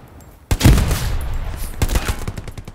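Rapid bursts of automatic gunfire in the World War II shooter Hell Let Loose, loud and close, opening with a heavy blast and then continuing as sustained fire, apparently from an STG-44 rifle.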